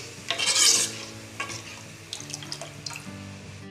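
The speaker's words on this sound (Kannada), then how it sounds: "ಈಗ ಹದ ಮಾಡಲಿಕ್ಕೆ ಉಂಟಲ್ಲ ಅದಕ್ಕೆ ಸ್ವಲ್ಪ ನೀರನ್ನು ಹಾಕಿ" Water poured into a hot pan of masala for Mangalore black pomfret fish curry, a brief rushing splash early on followed by lighter clinks and stirring sounds.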